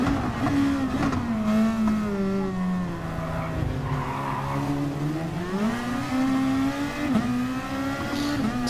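A pack of racing cars roars along in a video game, engines droning and rising and falling in pitch with tyre squeal, steady and loud without talk.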